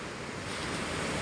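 Sea waves wash ashore during stormy weather from the first typhoon. Surf roars steadily and loudly with wind noise, a continuous close wash with no talk.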